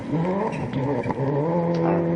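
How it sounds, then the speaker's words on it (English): Ford Focus WRC rally car, an early World Rally Car, driving a wet stage, its engine loud and continuous with steady revs and slight variations, heard alone with no talking. "That nice Ford Focus WRC, early WRC car, closely followed now by Aaron Newby"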